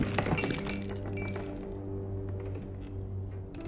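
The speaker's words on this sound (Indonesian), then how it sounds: "Alex yang sedang bersembunyi secara tidak sengaja menyenggol botol kaca." A glass bottle is accidentally knocked over in a room, giving a quick clink and rattle of glass near the start, followed by faint lingering clatter over a steady low hum.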